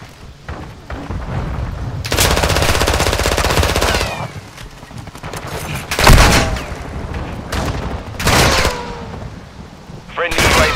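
Video game combat with rapid machine-gun bursts and scattered heavier shots and booms, loud and close, coming in several clustered volleys with brief lulls between them, and radio-style voices calling out now and then.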